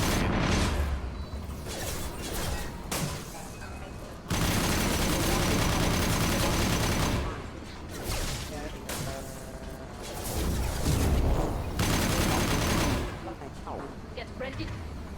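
Infinity rifle gunfire from the video game Mass Effect 2, with rapid bursts of shots and mechanical clatter coming in waves. Game voices talk at times over the shooting.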